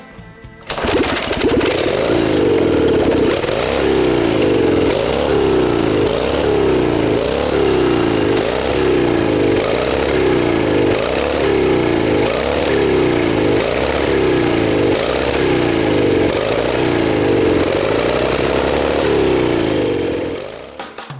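A second 1930 Harley-Davidson hill climbing motorcycle runs at a museum, loud and near, its engine revved in repeated regular surges roughly every second and a half before shutting off.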